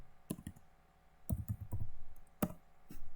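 Keys clatter on a computer keyboard while a simple PLC program is entered, with close, crisp clicks in quick irregular bursts separated by short pauses.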